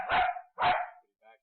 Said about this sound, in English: He's probably just barking at the police officers